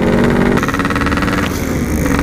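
Two-stroke Yamaha RX motorcycle engine revving loudly up close, a steady buzzing drone with a pitch shift partway through as the throttle changes, no voices.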